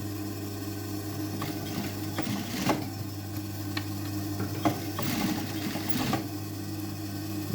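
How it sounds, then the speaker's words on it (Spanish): A sewing machine stitching a seam on jeans, a steady close mechanical hum with rapid needle ticking and occasional louder clacks from the fabric handling. "debemos coserlo una costura más"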